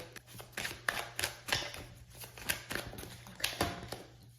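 Soft riffling and papery flicks of tarot cards being shuffled, a series of quick bursts close by with a faint steady hum underneath.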